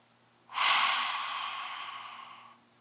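A single forceful lion's breath exhale in pranayama practice, a loud, breathy rush of air that starts abruptly, holds for about two seconds and then fades, close and alone.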